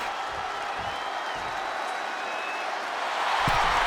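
Arena crowd noise in the WWE 2K24 wrestling game, a steady roar of cheering with faint applause that swells louder near the end, under quiet commentary.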